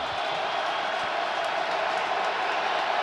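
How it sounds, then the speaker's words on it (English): A packed stadium crowd at an NFL playoff game roars steadily, a loud, constant wash of massed voices and cheering with no breaks. "This is tough communication here with the crowd noise"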